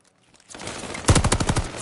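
Rapid automatic gunfire in a multiplayer shooter video game, a close, loud burst of about eight shots in quick rhythm following a brief quiet lead-in.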